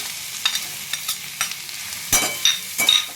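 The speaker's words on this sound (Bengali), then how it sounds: "এবারে আমি গাজরটা দিয়ে দিচ্ছি তেলের মধ্যে" Carrots tipped into hot oil tempered with cumin seeds in a kadai, a soft continuous sizzle broken by several sharp scraping and stirring knocks of a spatula.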